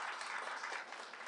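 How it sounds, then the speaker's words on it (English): An audience at a women-in-construction support circle launch applauds its panelists, a short, faint patter of clapping heard at a distance. "I just would like a round of applause for our panelists."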